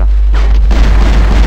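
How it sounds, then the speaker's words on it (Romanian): A bomb detonates in the online shooter Battlefield Heroes, a loud low boom that swells and rumbles on as a sustained roar for over a second, with no voices over it. "Și acum a explodat bomba"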